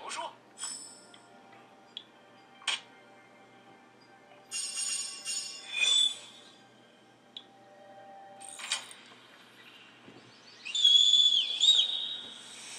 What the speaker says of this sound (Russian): Ох, он громко свистнул!